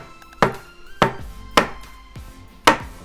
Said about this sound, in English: Now we'll just cut it. Use a bench scraper.